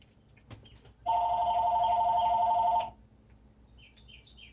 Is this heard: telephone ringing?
yes